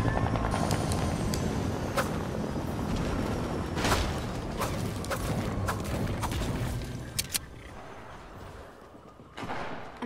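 Helicopter in a video game, a rapid thudding rotor chop under sharp clicks and clatter of gameplay, fairly loud at first and easing off later.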